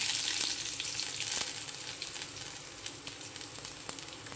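Cowpea pods sauté in hot oil with garlic and coriander, a continuous close sizzle and crackle with a few sharper pops, slightly louder at first, then settling into a steady hiss.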